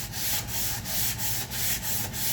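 Sandpaper is rubbed back and forth over a wooden spice rack in steady, rhythmic strokes, a close, loud scratchy swish repeating roughly every third of a second, with no talking.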